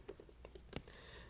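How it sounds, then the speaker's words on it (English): Typing on a computer keyboard: a quick, quiet run of about eight to ten light key taps in an uneven rhythm, close and alone with no talk. "I'm going to type Express,"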